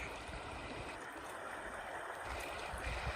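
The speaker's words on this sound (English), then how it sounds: "Chris Morris attempting to cross a creek." Creek water rushes and splashes steadily during a crossing on a Yellowstone backpacking trip, a dense broadband flow up close with no voices.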